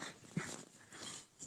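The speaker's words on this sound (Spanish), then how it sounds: "Ah, un perrito." A small dog whimpering and yipping briefly at a distance, faint and thin against light outdoor background noise by a road.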